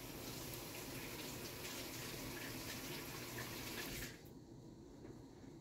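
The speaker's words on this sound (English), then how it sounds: "And let me wash my hands for a second." Running tap water splashing over hands at a sink, a steady wash of noise that cuts off sharply near the end, leaving quieter room tone.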